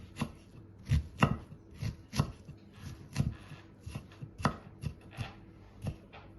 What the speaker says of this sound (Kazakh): пиязды қуырмай осылай шикідей сақтап турап қоса саламын